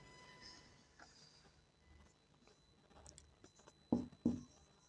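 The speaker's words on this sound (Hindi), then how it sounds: "अभी जस्ट लिख रहे हैं" A pen or marker writes trigonometry formulas on a surface in a quiet room, making faint, close scratching strokes that end in two louder taps.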